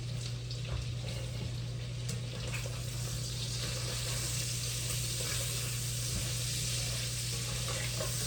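Sausage browning in a frying pan while garden vegetables are prepared, giving a steady, even sizzle that holds at a constant level throughout, joined by a low hum and faint clinks, with no talking.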